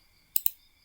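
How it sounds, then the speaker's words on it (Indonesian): A mouse clicks twice in quick succession on an apply button while spatial data is processed in software; the two sharp, faint clicks sit close together over a quiet background. "lalu klik apply."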